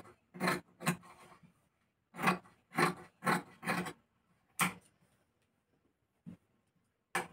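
Scissors snip through fabric, cutting the round neckline of a baby's frock, in a series of separate crisp cuts and rasps with short pauses between, close and fairly quiet, no voices.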